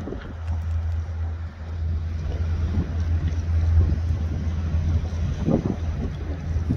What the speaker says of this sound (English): Lots of wind down here